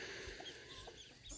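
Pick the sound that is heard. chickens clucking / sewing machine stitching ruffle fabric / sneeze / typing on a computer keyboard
chickens clucking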